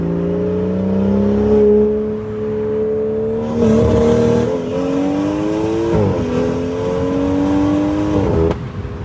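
A stage 2 tuned BMW 540i with a turbocharged B58 engine at night, droning loud and close as it pulls through rising, falling rev sweeps, with pops and crackles from the anti-lag and a sudden cut-off near the end.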